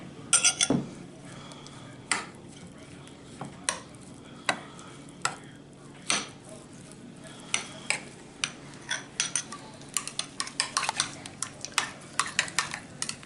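Spoon scraping and clinking in a bowl while rosemary, lemon, salt and black pepper are mixed, a quiet run of sharp clicks that grows denser toward the end, with no talk.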